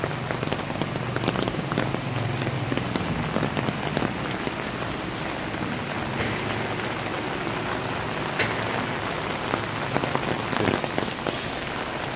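Heavy rain pouring on a Saigon street, a loud, even hiss of drops drumming on surfaces and splashing, close by and steady throughout with no talk.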